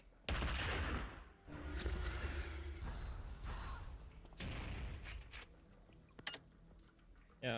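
Rapid gunfire from a competitive video game shooter match in a Duel Masters League play-off, dense bursts and crackling shots running almost continuously with a sharp crack near the end, loud and close.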